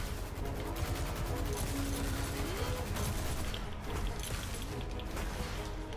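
Rapid bursts of gunfire from the Destiny 2 video game crackle over a dense, busy game soundscape, loud and sustained with a short pitched tone partway through.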